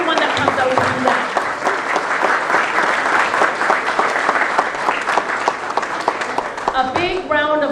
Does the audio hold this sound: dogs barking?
no